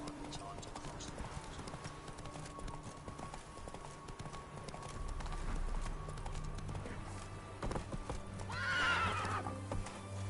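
Roach, a horse in the video game The Witcher 3, gallops with steady clip-clopping hooves and gives a whinny near the end, heard over game ambience and a low background voice.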